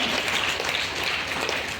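An audience claps at an event in a wedding hall, a brief, steady burst of dense applause that fills the room without speech.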